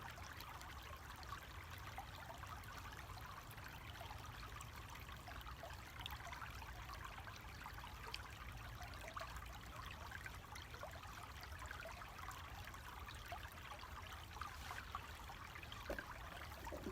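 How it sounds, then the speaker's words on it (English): A small river stream trickles and babbles steadily outdoors, a soft continuous watery wash with faint splashes, quiet and distant-sounding with no voices. "I'm going to have you be with this river and this sound right now"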